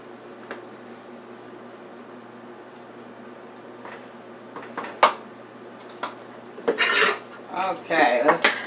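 Beef and bean soup is stirred in a pot, with a quiet start followed by utensil clinks and scraping against the pot that grow louder and more frequent toward the end.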